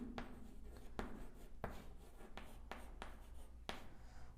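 Chalk or marker strokes scratch across a board in a quick series of sharp taps and scrapes, close and fairly faint, with no talking.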